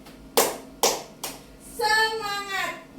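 Three sharp, evenly spaced hand claps ring out close by as part of a counted clapping routine, followed by a sustained voice-like call.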